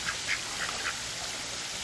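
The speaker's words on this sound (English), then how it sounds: "Quack, quack." Several ducks quack in short, scattered bursts while being fed bread at a pond, moderately close over a steady background hiss.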